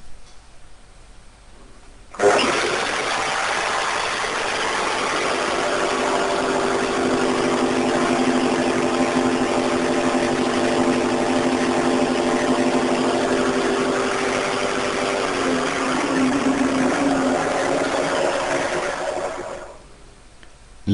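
A workshop vacuum and a table-mounted power tool switch on together, holding a loud, steady roaring whine for about seventeen seconds before spinning down to quiet.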